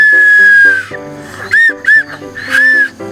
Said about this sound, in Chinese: 紧急哨子